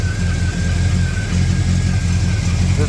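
A 1967 GTO engine runs at a steady idle at a car meet, giving a close, continuous mid-to-low rumble with a faint whine and no talking.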